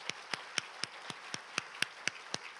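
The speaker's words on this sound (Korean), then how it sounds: "네, 박수 하겠습니다." Clapping in a church during a Sunday worship service, a faint, steady run of about ten evenly spaced claps with no voices.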